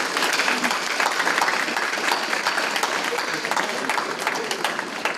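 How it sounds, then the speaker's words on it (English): Steady, sustained clapping from an audience at an alumni breakfast celebration, a dense even roar of applause lasting the full stretch. "Please, let's give her a round of applause."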